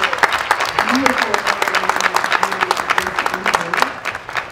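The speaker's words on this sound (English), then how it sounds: "a special round of applause for the Santa Rita leadership team" Graduation ceremony crowd at Santa Rita High School in a winter event giving a round of applause, many hands clapping in a brisk, uneven patter, fairly close and continuous, with a voice speaking over it.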